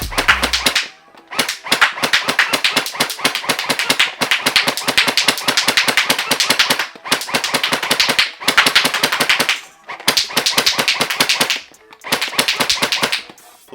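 XShot Hyper Gel blaster firing on full auto at about ten rounds per second, loud close rapid bursts of sharp cracks separated by short pauses, no talk.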